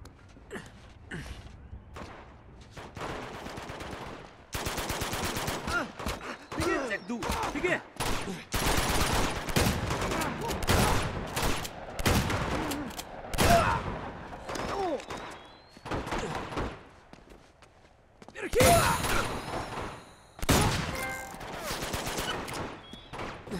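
Heavy gunfire, including shotgun blasts, erupts during a village attack in Uncharted 2: Among Thieves. Loud, sharp bursts come in irregular clusters with short lulls between them, and gasps and grunts are mixed in.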